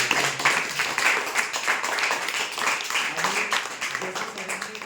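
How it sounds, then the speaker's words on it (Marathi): Applause from an audience at a Bhumi Foundation residential education project event in Wagholi, a steady patter of many hands clapping throughout, moderately loud with some crowd murmur mixed in. "आणि एकदा सरांसाठी आणि मॅडमसाठी टाळ्या बोलतो"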